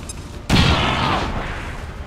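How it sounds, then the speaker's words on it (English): A grenade bursts in the turn-based strategy game XCOM 2 as a single loud boom with a sudden onset, followed by a long, dense rumbling decay. "Let this grenade fly."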